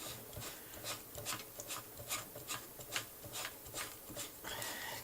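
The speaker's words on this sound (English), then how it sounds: "I'm just going to keep screwing it basically." The clamp of a movable bed stand is screwed down onto a small shelf, making a continuous close rasping, grinding rub that pulses at a steady, regular rhythm as the screw turns.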